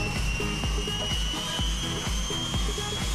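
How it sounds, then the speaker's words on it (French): A helicopter arrives with a steady loud whine over a rhythmic low thumping of rotor beats, continuous throughout with no talking. "il y a l'hélicoptère qui arrive"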